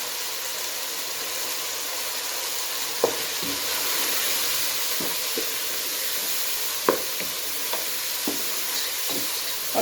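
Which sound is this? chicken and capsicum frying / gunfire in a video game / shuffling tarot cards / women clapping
chicken and capsicum frying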